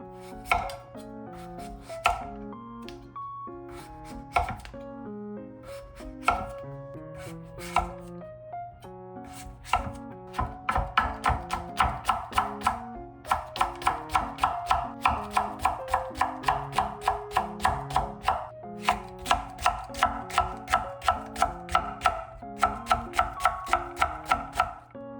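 A knife chops radish on a cutting board in a steady run of sharp, close taps, starting sparse and then settling into a fast, even rhythm over a low background hum.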